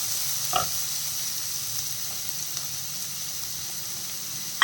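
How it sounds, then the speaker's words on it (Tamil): Finely chopped onions fry with cumin in a pan, a steady soft sizzle with a brief stirring clatter near the start and no talking. "மூணு பெரிய வெங்காயத்தை பொடி பொடியாக கட் பண்ணி வச்சுருக்கிறேன் அதையும் சேர்த்துலாம்"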